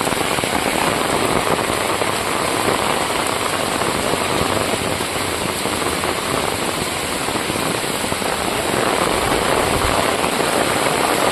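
Heavy rain pouring outdoors in a neighborhood, a dense, unbroken roaring hiss of drops hitting surfaces, loud and close for the whole stretch, with no voices.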